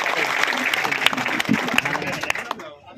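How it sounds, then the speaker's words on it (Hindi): A crowd at a protest sit-in claps to welcome a special guest, dense applause with scattered sharp individual claps, loud and fairly close, a voice speaking over it, then fading out near the end. "सभी ताली बजाकर उनका स्वागत करें"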